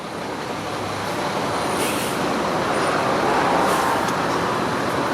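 Slow-moving road traffic on Weston Road in Toronto's Emery District makes a steady, broad roadway hiss and rumble with buses and trucks mixed in, continuous and moderately loud, with no talking.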